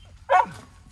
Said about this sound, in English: There's Pep, the wonder dog. She loves these pigs, but what are they doing? Keep them in line